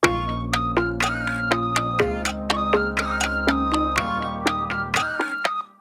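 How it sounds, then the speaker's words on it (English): An Ableton pop beat plays bass under layered harmonies: sustained low bass notes changing every two seconds beneath sharp, regular percussive clicks and bright tonal chords, produced with mouth sounds, clean and upfront. "So I'm playing the bass along with different harmonies going on in here."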